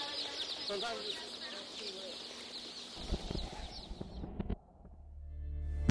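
Faint high chirping and peeping of many chicks at a hatchery fills the background, then gives way to low thumps and clatter before a brief quiet.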